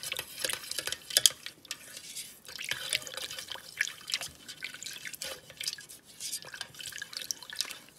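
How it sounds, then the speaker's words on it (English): Coffee poured into melted candle wax in a double boiler for primitive grunge candles, giving soft, irregular dripping and trickling with faint clinks of pots, fairly quiet and close with no voices. "I'm going to pour my coffee in."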